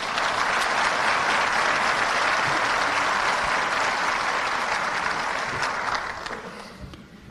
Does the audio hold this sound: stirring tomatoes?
no